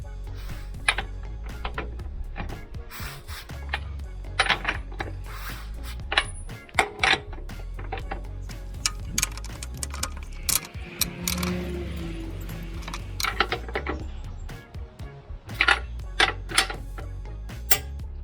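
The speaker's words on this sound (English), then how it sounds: "There, the torque indicator has clicked." Warren Brown torque wrench set to 110 Newton meters, fitted to a Tiger 900 GT Pro motorcycle rear mudguard, giving sharp close metallic clicks and ratcheting knocks scattered irregularly among clattering handling noise.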